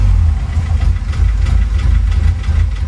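A barn-found Austin-Healey Frogeye Sprite engine idling loud and close, a steady low rumble with slight uneven pulsing and a sticky throttle, no voices.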